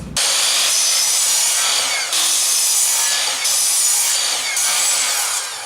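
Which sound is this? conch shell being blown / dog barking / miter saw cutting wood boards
miter saw cutting wood boards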